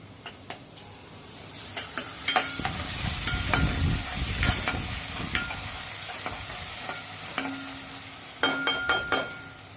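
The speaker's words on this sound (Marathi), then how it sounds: "थोडी आलं लसूण पेस्ट घालून घेत आहे" Ginger garlic paste frying in a pan in a home kitchen, with a continuous close sizzle and repeated scraping stirs of a spatula. Sharper metallic scrapes and clinks rise toward the end.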